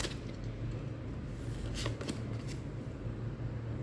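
Tarot cards being shuffled in continuous riffling, papery flutters for the whole stretch over a steady low background hum, with no voices.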